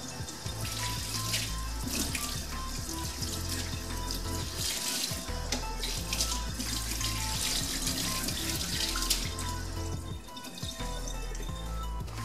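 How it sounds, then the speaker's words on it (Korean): A kitchen knife is washed under a running tap, with water pouring steadily into a sink and splashing, punctuated by occasional knocks and clinks. The sound is close, loud and continuous, with no voices. "칼은 항상 수세미나 비누로 닦아주셔야 돼요."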